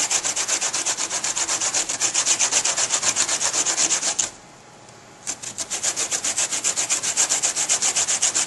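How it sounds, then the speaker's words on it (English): An orange peel is rubbed up and down against the sharp grating side of a hand grater for zest. The rasping comes in fast, even strokes, pauses for about a second, then resumes at the same steady rhythm. "slightly run the peel up and down on the grating side of this grater"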